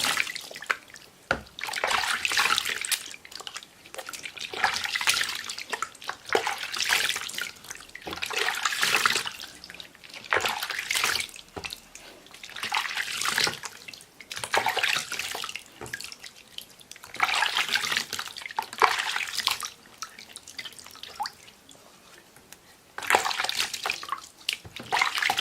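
Tap water runs in repeated bursts while vinegar is rinsed off feet, splashing and gushing with pauses between pours. The sound is moderately close and carries on for the whole stretch without speech.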